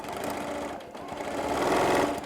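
A sewing machine back-stitches with a loud, close, fast mechanical whir, dipping briefly as it reverses before running on steadily again while stitching a fabric storage pod.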